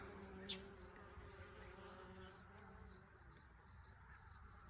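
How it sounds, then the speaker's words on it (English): Honeybees, small bees and a carpenter bee buzzing around Allium 'Millenium' flowers, a steady close hum of many insects with individual buzzes passing by and faint bird calls in the background. "See honeybees, I see small bees, got a carpenter bee over here."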